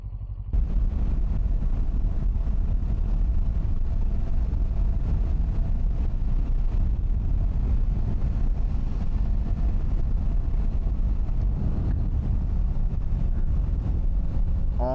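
A Harley motorcycle rides along a road past cornfields, its engine droning low and continuous beneath a steady rush of wind, close and unbroken throughout.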